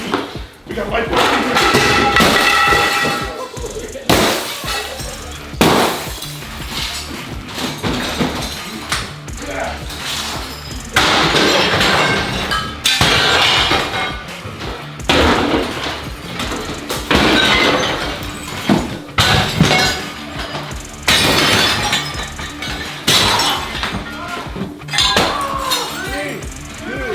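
Light bulbs are smashed in a demolition spree, giving repeated bursts of shattering glass and tinkling clinks among heavy bangs, with voices talking and shouting over the noise.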